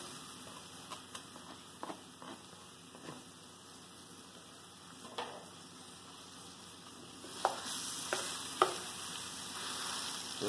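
Ground beef fries in a pan with a soft, steady sizzle. Scattered clicks and scrapes from stirring come through, growing louder and more frequent toward the end.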